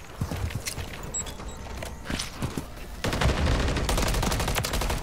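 Automatic MCW assault rifle fire in Modern Warfare 3, scattered shots and distant gunfire giving way to a sustained, loud close-range burst of rapid shots near the end.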